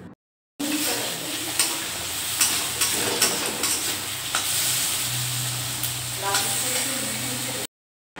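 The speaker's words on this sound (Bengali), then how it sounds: "দেখো পটল আলু আর পেঁয়াজ দিয়ে একটা ভাজা করবো" Pointed gourd, potato and onion fry in a wok with a loud, close sizzle while a spatula scrapes and stirs in repeated strokes, and a low hum runs underneath.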